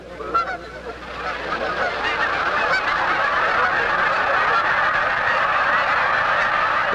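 A large winter flock of wild geese honks in a dense, continuous chorus, many overlapping calls at once, loud and close, with the din swelling after the first second and holding steady.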